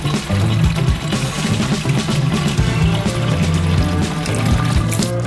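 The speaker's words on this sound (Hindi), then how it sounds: "इसलिए हम गुब्बारे को पानी से भरते हैं।" Water filling a balloon: a steady, close gurgling and pouring flow that runs without a break, with no voices over it.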